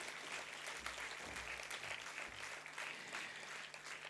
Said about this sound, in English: Come on, you need to bring out the biggest applause in you.